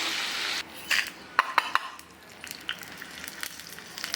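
Mustard seeds and dried red chillies tempering in a pan, with a brief hiss at first, then sharp clinks of a metal utensil against the pan and light sporadic crackles, fairly quiet, no talk.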